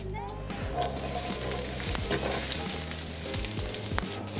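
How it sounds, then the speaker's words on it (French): Aubergines fry in olive oil in a pan with a loud, steady sizzle and crackle, broken by the scrape and clink of stirring and occasional bumps of the pan. "Nous allons prendre une poêle, verser un filet d'huile d'olive et commencer à cuire nos légumes séparément. D'abord les aubergines."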